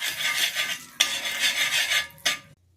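Eggs frying in oil with chili powder and salt in a home kitchen: a steady crackling sizzle broken by a couple of sharp scraping stirs of a utensil in the pan, ending abruptly.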